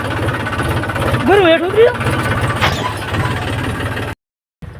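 A tractor engine pulling a rotavator chugs with a steady rapid knock close by, while a person talks over it; the sound cuts out briefly near the end.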